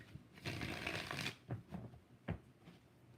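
Tarot cards are shuffled by hand in a quiet room, a long riffling rush followed by several shorter, softer bursts of card shuffling, close and alone without talk.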